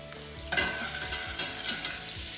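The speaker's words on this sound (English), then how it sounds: "we're gonna whisk it in there little by little" Flour whisked into hot vegetable oil and butter for a gumbo roux, a sudden loud sizzle bursting up as it hits the fat, then a steady frying hiss with rhythmic whisk scrapes, no voices.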